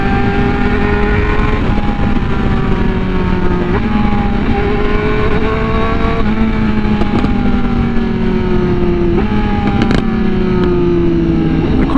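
A Honda Fireblade RR-R SP with an SC Project exhaust and Stage 2 tune accelerates hard during a top-speed run, its loud engine note climbing in pitch and dropping with each quick-shifter upshift, repeated several times without a break.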